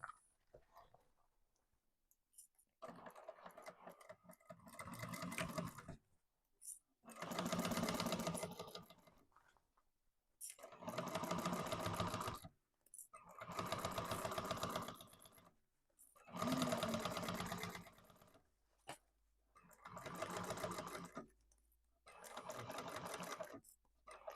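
Sewing machine chain-stitching off thread tails while making a tote bag, running in about six steady bursts of stitching separated by short pauses, close and clear with no talking.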